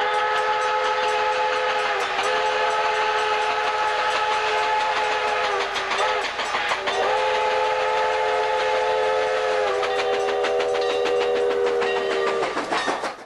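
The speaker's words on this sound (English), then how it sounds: "the 1522 was given a new Burlington Roof 5-chime whistle," A loud, sustained five-chime steam locomotive whistle, a Burlington Route type on engine 1522, blows long chords, with brief breaks and pitch dips before sounding again, ending abruptly.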